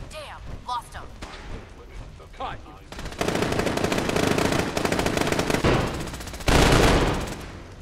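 Automated turret firing in Fallout 4, long rattling bursts of rapid machine-gun fire that grow louder and denser, preceded by brief talk and ending in a heavier close volley.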